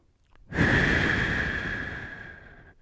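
One long, steady breath is drawn and let out close to the mic while a person holds a plank, rising quickly, then slowly tapering away.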